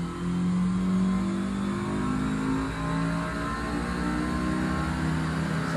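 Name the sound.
Honda S2000 engine revving during dyno pull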